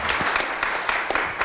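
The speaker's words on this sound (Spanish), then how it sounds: "Un aplauso para Ramiro." Applause from the audience at a members' session on therapeutic guidelines, a steady crowd clapping that stays broad and even for the whole short stretch.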